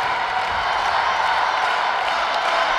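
Local crowd at a Korea versus Azerbaijan match roaring steadily behind the Azerbaijan team, a dense, unbroken wash of voices that holds the same level throughout.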